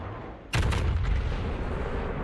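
Warship secondary guns opening fire in a naval battle game, a sudden loud boom followed by a rumbling, sustained roar of rapid gunfire that fades slowly.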